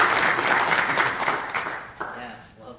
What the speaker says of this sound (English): Yes, love the claps.